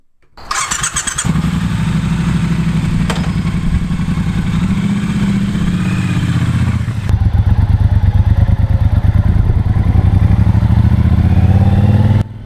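A Triumph Bonneville Bobber motorcycle rides on the road, giving a loud, close engine drone with a brief squeal and clatter near the start. The engine note shifts as it pulls away, with a gear change about midway and no talking.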